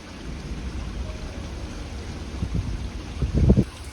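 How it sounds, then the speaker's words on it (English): Ferocious wind gusts drive sideways rain during an extreme wind storm in Massachusetts, a constant roaring wash of rain and wind that swells into a louder buffeting gust near the end. "There's sideways rain."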